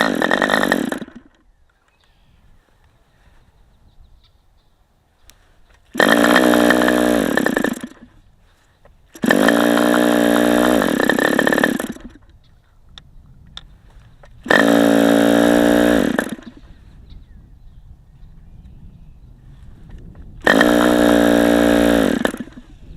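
A Webra Speed 61 model glow engine with newly replaced piston ring runs in loud, steady bursts, revving hard four times for a couple of seconds each between quiet pauses.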